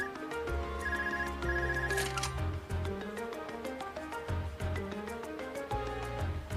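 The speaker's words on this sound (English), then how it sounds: "It's a phone call." A phone rings repeatedly inside Trails of Cold Steel on PS4, its bright ringtone sounding alongside the game's continuous music.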